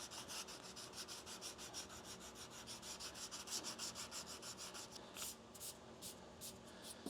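Hand sanding of primer on a 1935 Packard car body, rhythmic back-and-forth scuffing strokes at a steady quick pace, close and fairly quiet, with no voices.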